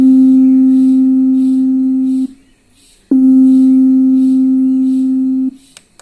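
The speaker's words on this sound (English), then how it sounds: "This is a sine wave." A sampled pure sine tone for building an 808 bass sounds twice, each a steady, loud, unwavering hum lasting a little over two seconds, cut off cleanly, with a short gap of near silence between the two.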